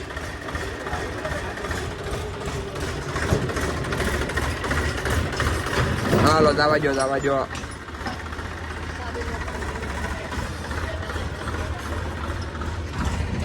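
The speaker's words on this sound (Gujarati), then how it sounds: "અત્યારે આપણો ટ્રેક્ટર જાય છે." A farm tractor's engine rumbles steadily at a moderate distance throughout, with a person speaking briefly over it partway through.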